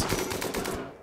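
A rapid burst of gunfire in the colony-management game Rimworld, a short cluster of sharp cracks lasting about a second, close and loud, with no talking over it.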